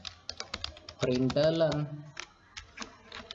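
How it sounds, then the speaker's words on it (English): Computer keyboard typing during a Java programming lesson, with close, quick irregular key clicks running throughout and a voice speaking briefly over them in the middle. "I'm typing"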